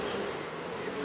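Honeybees buzzing around an open hive during a summer inspection, a dense steady hum filling the whole second, close and even, with no talk.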